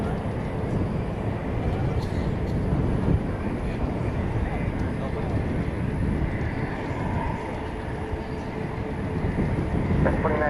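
EVA Air Flight 50 from Taipei, a Boeing 787-9 Dreamliner, on final approach to DFW Airport at night: a steady, broad engine roar, loud and continuous throughout, with faint background chatter.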